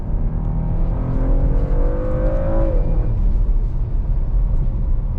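A 2022 Porsche Macan S in sport mode with boost pulls hard with a loud, steady engine drone that rises in pitch through a gear and dips at a shift, sounding close from inside the cabin.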